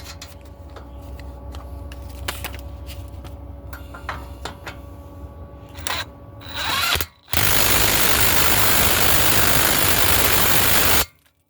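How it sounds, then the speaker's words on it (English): A castle nut on a vehicle tie rod is tightened: a series of close, sharp ratcheting clicks, then a loud, sustained power-tool whir that runs for several seconds and stops abruptly. "I'm gonna tighten up this castle nut down here first."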